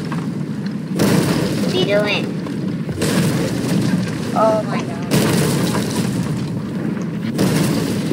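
Cannons fire aboard a pirate ship in Sea of Thieves, with four heavy booms spaced roughly two seconds apart. Excited voices shout between and over the blasts.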